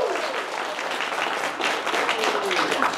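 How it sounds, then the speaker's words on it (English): Audience applause at a fan convention panel as a volunteer comes down to the front, a steady, dense wash of clapping from a crowd that carries on throughout, with a faint voice underneath. "Round of applause, everybody."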